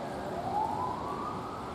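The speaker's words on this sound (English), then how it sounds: "There's a police siren outside." A police siren wails from outdoors, a single faint rising tone heard at a distance over low background noise.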